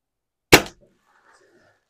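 A single sharp pneumatic air rifle pellet shot, close and fairly loud, the last of a group, followed by a faint short tail of low clatter and quiet room noise.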